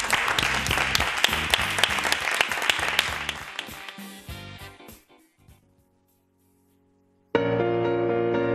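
Studio audience applause on a television show's stage, a loud dense burst of clapping that fades to silence, then resumes abruptly and strongly near the end.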